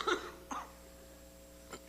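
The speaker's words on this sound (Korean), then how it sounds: "왜 기침이 나는지 모르겠네요" A man preaching at a Sunday afternoon church service coughs twice, a short close cough followed after a pause by another brief one, in an otherwise quiet room.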